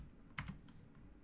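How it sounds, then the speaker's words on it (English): Short burst of keystrokes on a computer keyboard, two or three quick clicks close to the microphone, quiet and alone with no speech. "So if we type"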